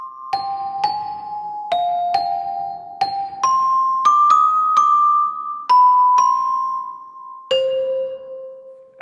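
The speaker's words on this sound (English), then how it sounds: "The Celeste is one of my faves." Celesta from an orchestral sample library in Iconica Sketch, playing a slow melody of bright, bell-like struck notes that ring and decay, clear and close with no voices.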